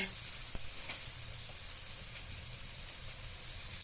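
Onion, green chili, tomato and five-spice seeds fry in hot oil with a steady, close sizzling hiss and faint scattered crackles.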